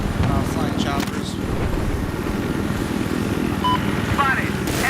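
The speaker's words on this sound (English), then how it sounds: "Spotted enemy helicopter." A video game helicopter flies close by with a steady, pulsing rotor thrum that continues throughout, under a few faint voice-like sounds.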